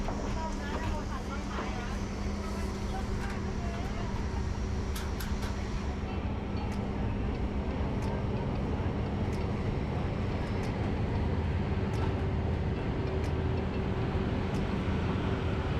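A train pulls out of Kaeng Khoi Junction station in Thailand with a steady, continuous rumble and faint tonal hum, while someone narrates throughout.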